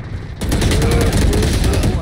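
A rapid, loud stream of gunshots fills nearly the whole moment in the Crab Game video game, starting abruptly after a brief quieter lead-in.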